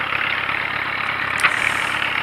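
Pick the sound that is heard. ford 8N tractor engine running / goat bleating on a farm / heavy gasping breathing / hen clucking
ford 8N tractor engine running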